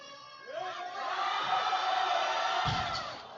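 A crowd at a powerlifting meet cheers and shouts for a lifter, building from scattered calls into a sustained roar, with a dull thud near the end.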